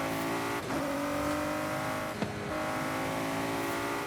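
Ford GT supercar with a twin-turbo V6 in the racing game Forza Horizon 5, a loud sustained engine howl as it drives, with brief tire noise and gear-shift blips.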